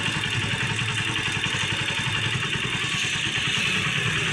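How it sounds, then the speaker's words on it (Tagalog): A Honda Supremo TMX 150 motorcycle engine, previously misfiring, idles steadily with an even, rapid chugging pulse and a constant mechanical clatter, close and alone. "mababa na po yung minor, umandar na po yung motor natin"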